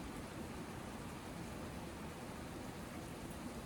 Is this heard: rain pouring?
yes